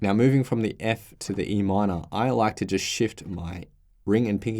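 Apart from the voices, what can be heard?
None of the usual background noises is heard.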